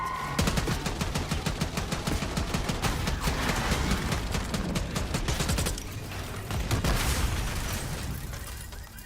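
Dense, continuous automatic gunfire from the video game Call of Duty Black Ops 6, rapid bursts of shots layered with booms and explosions, loud and close throughout with no pause.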